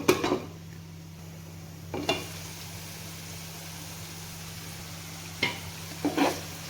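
A spoon stirs bottle gourd curry in a pan after the lid comes off, giving a few scraping clinks over a soft, steady simmer hiss, with no talking.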